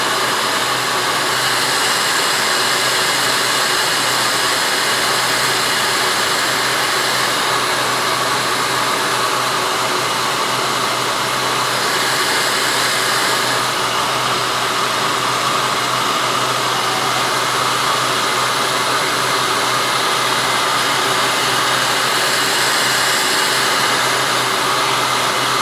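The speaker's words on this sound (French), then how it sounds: "c'est un gun à très très haute température qui va me permettre de faire coller le connecteur sur le fil" A heat gun blows very hot air onto a connector to shrink it onto the wire of a Christmas light set, a loud, steady, unbroken rushing roar of air that holds the whole time with no voices.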